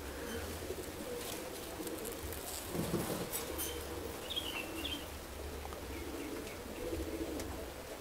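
Homing pigeons make low, soft coos in a quiet room with steady faint background hiss and a few brief chirps.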